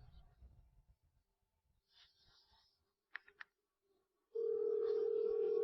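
A telephone call starts with scattered breathing and a couple of short electronic beeps, then a steady loud dial tone sounds for the last second or so, close and clear.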